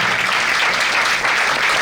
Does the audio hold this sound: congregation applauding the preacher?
yes